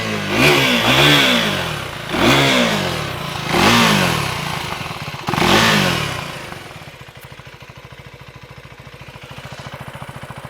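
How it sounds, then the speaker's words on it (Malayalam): A Husqvarna Svartpilen 401 motorcycle with an underbelly exhaust blips its throttle four times in loud, close revs, each rising and falling, then settles into a quieter, steady idle. "ഇനി നമുക്ക് എക്സോസ്റ്റ് സൗണ്ട് ഒന്ന് കേൾക്കാം."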